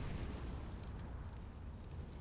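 Flashbang grenade going off in a Counter-Strike match on the Overpass map, a faint rumbling blast that sustains as a noisy wash for the whole moment.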